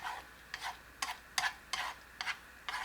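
Four eggs in two spoons of cooking oil with a little seasoned salt cook slowly in a pan over medium-low heat. Soft, regular scraping strokes, about seven of them, sound close over a faint sizzle.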